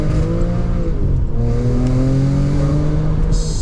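A supercharged 2010 Audi S4 B8 engine revs loud and close, its pitch sweeping upward in sustained acceleration with a dense mechanical drone and no talk over it.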